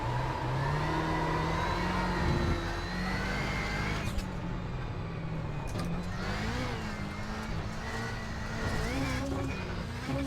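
A Subaru WRX engine in the iRacing simulator revs and accelerates on the short Daytona track. Its mid-pitched drone climbs and drops through gear changes and runs continuously at moderate volume.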